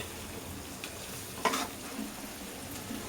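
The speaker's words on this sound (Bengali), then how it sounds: "ছোলার মশলা কষানো হচ্ছে" Spice paste for a chickpea curry being stirred and sautéed in a pan, a soft, steady sizzle with a few scraping strokes of the spoon, faint and close with no talking.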